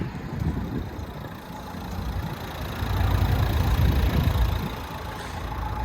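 A 2013 Nissan Qashqai 1.5 diesel engine idles steadily with a low, continuous rumble that swells slightly midway, with no voices.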